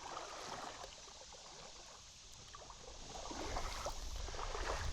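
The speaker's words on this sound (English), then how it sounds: "Gotta wade through this little bit of water." Water sloshing and swishing steadily as someone wades through a shallow creek, with a continuous trickling current around the legs, close and moderately loud, rising slightly toward the end.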